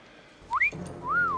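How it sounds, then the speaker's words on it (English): A two-note wolf whistle, a short rising chirp then a long rising-and-falling glide, rings out clearly close by over a quiet low background. "A wolf whistle."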